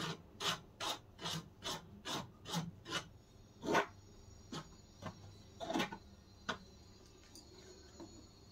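Banana batter is mixed with flour in a bowl, making a quiet run of rhythmic scraping and slapping strokes, about ten evenly spaced at first, then sparser and softer, with no voices.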